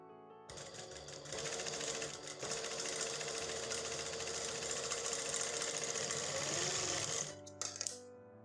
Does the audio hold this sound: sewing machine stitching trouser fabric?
yes